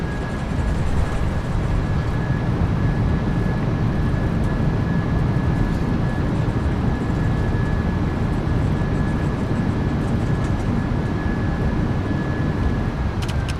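PMDG 737-800 in the MSFS2024 video game rolling out after landing with thrust reversers deployed: a loud, steady broadband roar with a faint thin tone held above it, unbroken for the whole stretch.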